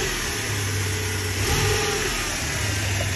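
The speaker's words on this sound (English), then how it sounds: "starting to shake and misfire right now because it's idling too low" A Toyota Hilux 2.7-liter gas 3RZ-FE engine idles too low, running rough and choppy with misfires, a steady low rumble with uneven pulsing throbs, heard close and alone.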